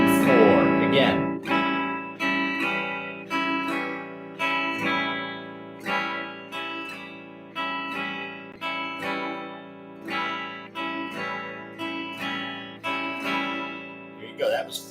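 Acoustic guitar strumming a beginning blues rhythm, the same steady strum pattern repeated bar after bar in bright, evenly pulsing chord bursts, close and alone without talking.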